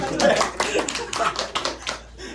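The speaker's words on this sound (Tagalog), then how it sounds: "Palakpak." A small indoor audience claps, a short burst of crisp, irregular hand claps that thins out and stops after about two seconds, close and fairly loud.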